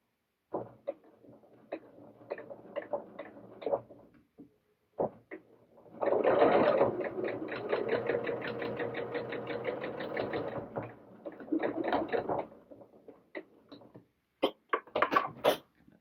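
A sewing machine stitches a doll dress in short bursts: a few brief runs, then a longer steady stretch of rapid rhythmic needle clatter lasting several seconds, followed by more short stops and starts.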